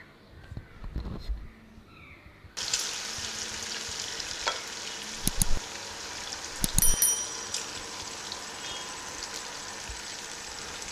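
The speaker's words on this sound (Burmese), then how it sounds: "ဝတ်သားကိုထည့်ပြီးတော့ကျွန်တော်ကြော်လိုက်ပါမယ်" Pork sizzling and frying in hot oil in a pan, a steady hiss that jumps louder as the meat goes in, with occasional stirring clatters and faint quiet voices early on.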